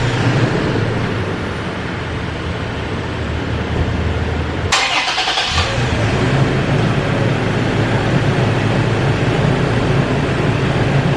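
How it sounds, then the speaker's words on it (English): 2020 Toyota Tacoma with a K&N cold air intake starting up outdoors in the evening: a brief starter crank around the midpoint, then a steady, close idle rumble continues over constant background noise. "let's start this up and see how much louder it is with the cold air intake"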